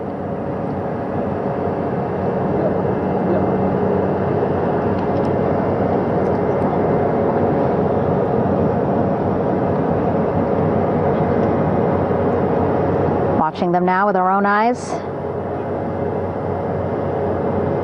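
Aircraft engine drone hangs steadily over the bow of a recovery ship as it hovers above the flight deck, loud and continuous, with a brief voice speaking over it near the end.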